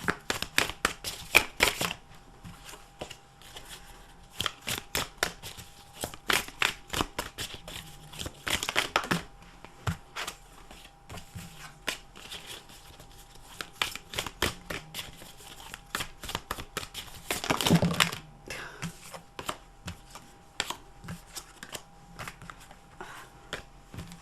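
Someone shuffles a deck of large tarot cards by hand, producing a steady patter of papery riffles and slaps, with two louder bursts where the cards snap together. Nobody speaks.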